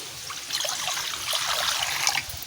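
Water trickles and splashes steadily into a cooking pot for a couple of seconds, close and fairly soft, with no voices.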